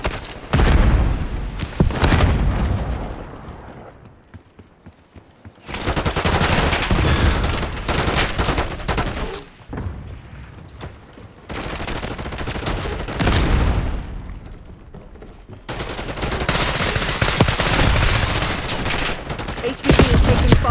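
Rapid bursts of automatic gunfire and booming shots from Call of Duty Black Ops 6 multiplayer, loud and dense in waves with brief quieter gaps, a voice line sounding faintly beneath the battle.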